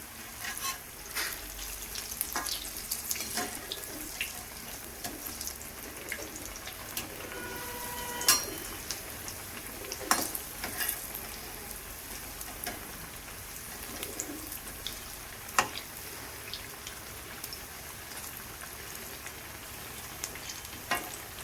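Cauliflower pakoras fry in hot oil with a steady crackling sizzle, punctuated by occasional clinks and stirring sounds nearby, with no talking.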